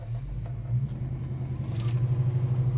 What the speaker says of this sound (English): And car starts, beautiful